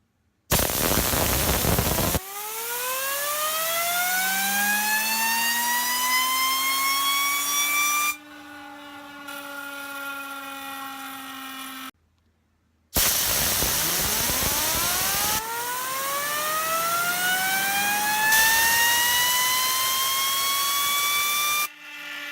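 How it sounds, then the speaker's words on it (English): A Quadton fidget spinner spins twice, each run a close, steady whirring whine with a sliding pitch that lasts several seconds before cutting off. "So I'm going to test this one for spin duration now."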